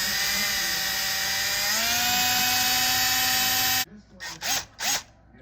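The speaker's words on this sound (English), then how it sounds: "That way I can see where I'm drilling now." A power drill boring into a wheelchair rear axle, a loud sustained high whine that shifts pitch partway, then cuts off and gives way to a few short bursts as the trigger is pulsed.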